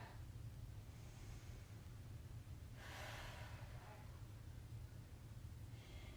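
Slow breaths during a yoga stretch in a home fitness session, a broad airy exhale swelling midway and another near the end, faint over a steady low hum with no talking.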